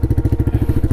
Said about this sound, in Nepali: साइलेन्सर हल्लिरहेको यार यसको यार यो हल्लिनु त नपर्ने हो